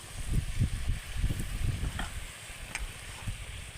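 Semolina pitha batter frying in hot oil, a steady close sizzle with soft stirring scrapes and occasional small pops, heard alone without talk.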